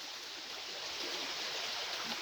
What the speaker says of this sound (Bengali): দেখছেন তিনটা ঝিরির মিলনস্থান